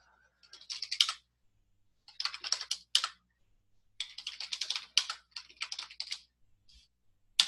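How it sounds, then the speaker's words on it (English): Someone types on a computer keyboard, entering a file path and file name in a C# program, in quick bursts of crisp key clicks separated by short pauses, close up and with no speech. "If I run this, then now I can type in, oh, I want this"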